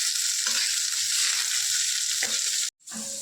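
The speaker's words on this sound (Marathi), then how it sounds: "आता आपण कांदा टाकूया कांदा आपण चांगला भाजून घेऊया" Onion frying in a pan with curry leaves and garlic for a bitter gourd (karela) curry, a loud, steady close sizzle with soft stirring scrapes, briefly cut off near the end before resuming.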